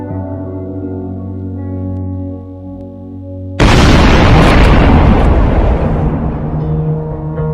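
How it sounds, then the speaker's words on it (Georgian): A steady low hum gives way to a sudden loud blast in Minecraft, followed by a long rumbling roar that slowly fades. "რაღაც აფეთქების ხმა გავიგონა"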